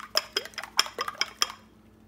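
A utensil clinks rapidly against a bowl while egg is beaten for coating kebabs, six or seven sharp metallic strokes in quick rhythm, close and alone.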